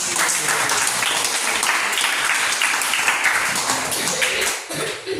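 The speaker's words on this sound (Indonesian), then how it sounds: "tepuk tangan untuk Billy." Classroom applause from students during a coached academic supervision lesson, a steady dense clapping that fills the room for about five seconds and then thins near the end.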